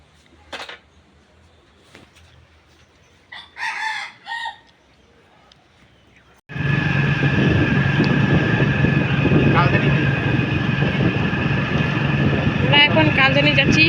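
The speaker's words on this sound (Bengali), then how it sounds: "বাইক স্টার্ট দিয়ে চলে যাই।" A motorcycle carrying two helmeted riders, an adult and a boy, sets off on a sunny day; after a quiet opening with brief bird calls, a loud, steady engine drone kicks in abruptly and runs continuously to the end.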